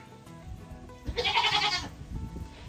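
A goat lets out one loud, drawn-out bleat up close, its wavering cry standing out against quiet background noise.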